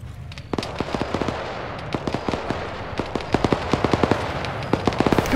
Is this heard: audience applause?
no